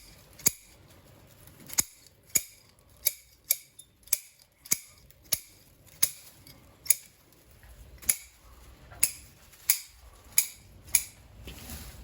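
Scissors pruning the twigs of a Chinese elm bonsai. About sixteen crisp, close snips come in a fairly steady rhythm with quiet gaps between them.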